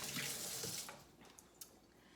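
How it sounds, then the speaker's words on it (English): A kitchen sink tap runs water over an onion being rinsed, a steady hissing stream that starts strong and then eases to a softer flow with a couple of small splashes, quiet and nearby. "So I'm gonna go ahead and rinse it in my sink."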